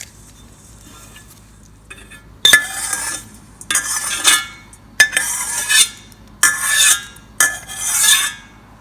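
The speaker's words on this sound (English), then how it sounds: "And mix them well" A spoon scrapes and clinks around a bowl as grated carrot pickle is mixed with red chilli flakes, lemon juice and oil, starting quiet and then coming in bursts of near, rhythmic stirring.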